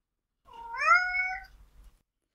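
A friendly domestic cat opens with a short trill that rolls into a melodic meow, one rising-then-falling call of about a second, close and clear with nothing else heard.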